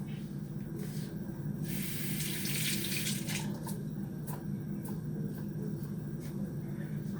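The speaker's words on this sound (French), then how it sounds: "Qu'on va passer à l'eau, bien sûr." Carrots are rinsed under a running kitchen tap, a steady close hiss of flowing water with a louder spray burst and brief clatters and splashes as the vegetables are handled.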